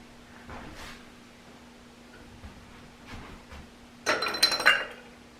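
Glass light fixture globes being handled: a few faint knocks and shuffles, then a louder burst of clinking and rattling glass near the end, close by and without talk.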